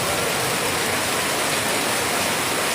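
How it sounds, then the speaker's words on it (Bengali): Steady rain pouring down outdoors during a hot spell, a dense, even hiss of falling water close by, continuous and unbroken with no voices. "বৃষ্টিটা কীভাবে হচ্ছে দেখুন।"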